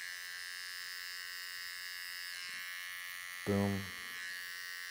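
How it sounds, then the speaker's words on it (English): An electric hair trimmer used over a comb on a classic fade gives a continuous close buzz, with a brief louder burst as it bites into hair; a voice speaks a single word. "So I'm actually gonna go trimmer over comb because this is a little tighter."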